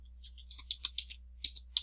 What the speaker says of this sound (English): Then you start typing.